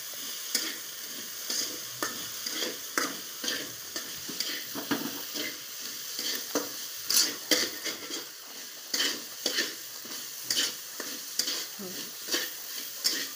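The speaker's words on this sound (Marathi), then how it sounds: "कढीपत्ता कोथिंबीर टाकून चांगले असे परतून घ्यायचे।" Curry leaves and coriander sauté in a kadhai, a steady sizzle of frying under repeated scraping stirs of a spoon against the metal pan, close and continuous.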